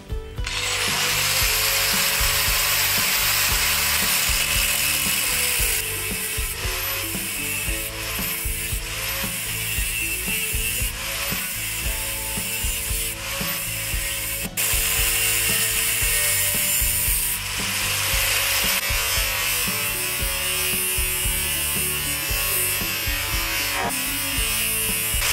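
Steady rasping of a pipe being cut while clamped loosely in a vise, a continuous loud grinding, scraping drone with small shifts in pitch as the pipe is turned, close and alone.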